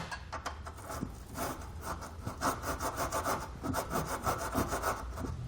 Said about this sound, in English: just take a tube brush and some penetrating oil and just kind of run that through all of our bolt holes